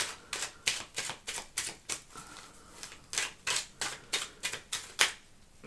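Tarot cards shuffled by hand for a reading, a rapid run of crisp riffling flicks in a steady rhythm, close and clear with nothing else over them.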